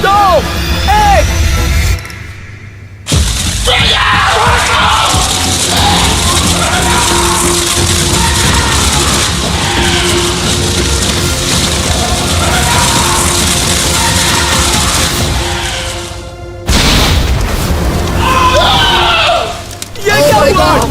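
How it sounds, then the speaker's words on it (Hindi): Fireball set off inside a car's interior, a loud sustained roar and burst of noise with excited people yelling and shouting throughout, broken by brief quieter gaps. "हमने कार के अंदर फायर बॉल डाल दिया है।"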